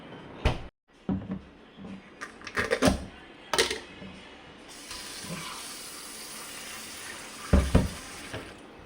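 Tap water runs and splashes into a basin as frozen fish is set in water to thaw in a home kitchen, with clattering handling knocks and a steady rush of flow.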